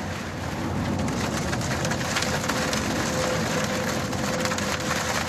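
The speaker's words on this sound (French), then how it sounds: "Là, on a de la grêle et de la pluie ensemble." Heavy rain mixed with hail pounds steadily on a surface, a dense, constant roar with sharper ticks throughout, no voices.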